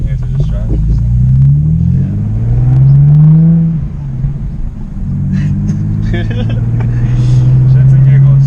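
A B5 Audi S4 on a ride-along, the engine droning and rising in pitch as it revs through gears, heard loud from inside the cabin with a steady road rumble and someone talking over it.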